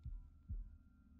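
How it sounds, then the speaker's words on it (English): Heartbeat in the horror video game The Devil In Me: two deep, thudding low pulses about half a second apart over a steady faint hum, with no talk. "Why are we doing like heartbeats"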